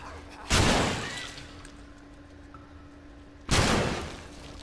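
Two loud shotgun blasts boom out in The Last of Us on PS4, spaced about three seconds apart, each a sharp close burst with a trailing rumble over low game ambience.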